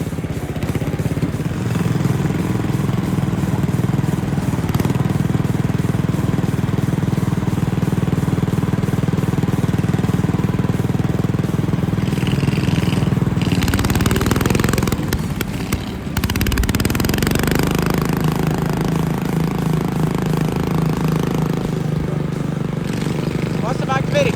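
A utility mower engine runs steadily close by for the whole stretch, a droning idle with a brief dip partway through.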